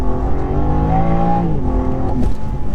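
A BMW M2 accelerates hard in first gear on a B road, its engine note rising steadily in pitch, dipping briefly, then climbing again, loud and close with no talking.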